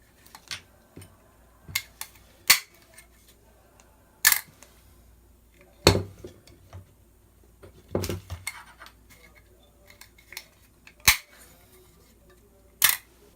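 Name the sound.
airsoft M16A4 upper receiver dust cover pushed open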